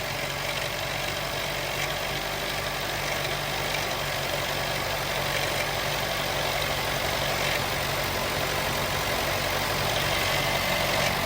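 A loud Jeep 2.0 engine with a coolant problem idles steadily and close by, a continuous rumble that stays even in level, with no one talking.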